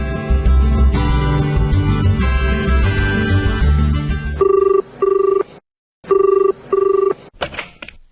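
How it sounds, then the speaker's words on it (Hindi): Telephone bell ringing in a Hindi radio drama, a loud electronic ring repeating in short evenly spaced bursts with brief pauses, following a stretch of background music. "सिद्धार्थ, आपका फोन।"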